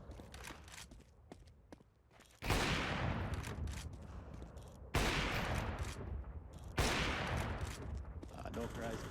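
Three loud, heavy AWP sniper rifle shots ring out in a Counter-Strike match, evenly spaced over steady game noise, each blast a sharp crack with a long rumbling tail.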